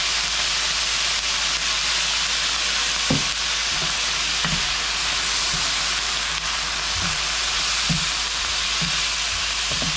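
Snow peas stir-fry in a pan with Kikkoman soy sauce, a loud continuous sizzling hiss broken by intermittent scraping knocks of stirring, with no voices.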